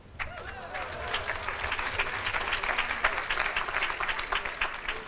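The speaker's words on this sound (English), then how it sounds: "Hold the applause." An audience at a university naming celebration breaks into steady applause, a dense wash of claps building quickly and holding for several seconds, with a voice faintly underneath at the start.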